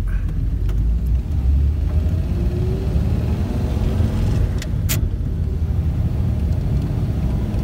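A 1938 Chrysler car engine pulling in first gear after a new condenser was fitted, giving a steady, loud low rumble that holds evenly throughout with no talking.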